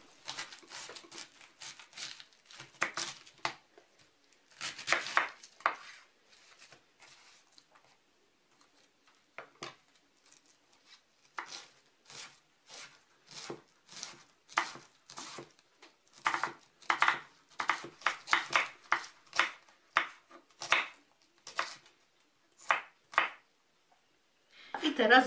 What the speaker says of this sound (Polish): Zaczynam od poszatkowania białej kapusty.